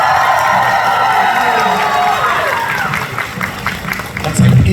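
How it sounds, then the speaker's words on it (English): Convention audience at a My Hero Academia Q&A cheering and whooping with scattered clapping, a loud crowd roar with shrill voices that dips briefly and then swells again. "Give them one more big round of applause"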